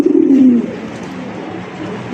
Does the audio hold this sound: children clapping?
no